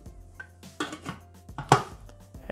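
Thermomix TM6-style kitchen machine chopping shallot at speed 7 for three seconds, heard as several short clattering bursts with one loud crash near the end, no speech.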